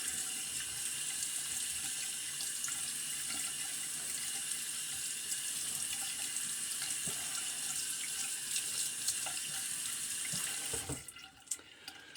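Tap water runs steadily into a sink to rinse a Williams double-edge razor after a shave, a close continuous splashing stream that stops abruptly near the end, followed by a few small drips and clinks.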